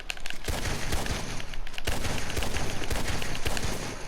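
Rapid gunfire from a repeater rifle in the video game Red Dead Redemption 2, a steady run of loud, closely spaced shots roughly every half second, with no talk.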